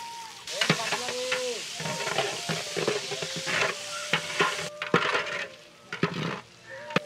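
Onion, garlic, chili and bay leaf frying in oil in a pan, a close hissing sizzle with scraping stirs and clinks, a voice briefly audible over it.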